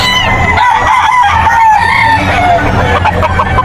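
Talisain stag rooster crowing at the Bocaue pet market, one loud drawn-out crow close by, with clucking and other fowl around it in a busy market.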